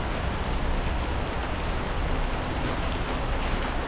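Steady heavy rain pouring down outdoors at sea while out fishing, a dense continuous hiss with no breaks and no voices.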